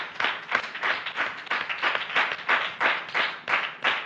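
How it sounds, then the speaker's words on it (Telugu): An audience claps together at a church thanksgiving gathering, steady dense applause with regular rhythmic peaks, close and loud with no talk over it. "ఇప్పుడు మీరు చప్పట్లు కొడుతుంటే"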